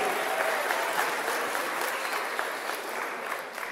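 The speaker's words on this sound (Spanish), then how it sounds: "Fuerte el aplauso para Ashley" Sustained applause from guests at a quinceañera celebration for Ashley, a dense, steady wash of clapping at moderate loudness that carries through the whole stretch without pause and tapers only slightly near the end.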